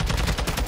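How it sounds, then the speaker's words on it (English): Sniper fire in the Warzone 2 video game, a dense burst of sharp gunshot cracks with heavy low boom, loud and close throughout the short moment with no talk. "Somebody's sniping still."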